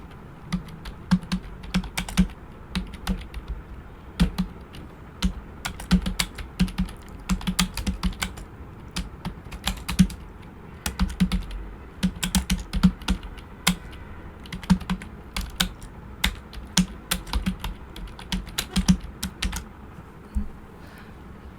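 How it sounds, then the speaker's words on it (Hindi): Rapid typing on a computer keyboard during a Hindi typing test, a steady stream of sharp close key clicks in uneven bursts with occasional heavier strokes, and no voices. "इतना ही टाइप करते हैं क्योंकि बहुत ज़्यादा टाइम हो जाएगा, इतना बहुत है।"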